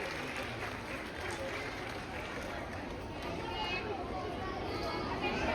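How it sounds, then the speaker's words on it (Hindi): A crowd at a primary school's annual function claps steadily to welcome the chief guest, a broad wash of applause at moderate distance with murmured voices underneath. "जोरदार तालियों से इनका इस्तकबाल कीजिए।"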